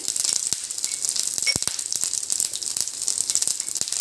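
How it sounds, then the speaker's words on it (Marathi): Half a spoon of ginger garlic paste frying in hot oil for crispy gobi manchurian, a steady close sizzle with crackling pops and a few sharp spits throughout, no talking. "तेल तापल्यानंतर त्यात आपल्याला अर्धा चमचा आलं लसूण पेस्ट टाकायची आहे आलं लसूण एक दोन मिनटं परतून घ्यायचे आहे"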